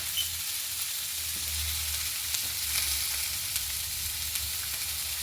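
Chicken pieces fry with turmeric in a pan for a Spanish dish, giving off a loud, continuous, even sizzle with faint stirring and no voices.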